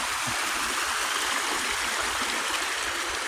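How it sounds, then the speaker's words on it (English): A small flowing creek being crossed outdoors at a campsite, its water rushing and gurgling close by in a steady, continuous wash with no talking. "I'm crossing my favorite little creek."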